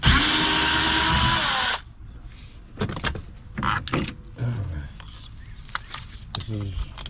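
A power driver with a T30 bit whines loudly and steadily while backing out window motor screws on a 2007-2017 Ford Expedition passenger door, then stops, followed by softer clicks and handling noises under talk.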